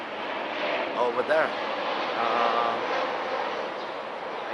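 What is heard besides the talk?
airplane flying overhead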